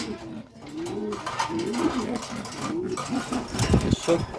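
King and Danish pigeons coo in low, rolling phrases that repeat through the whole stretch, fairly close by, with a voice talking over them.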